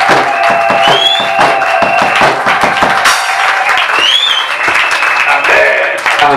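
Church congregation applauding and acclaiming the Lord, loud sustained clapping and cheering mixed with shouts and voices in a large hall.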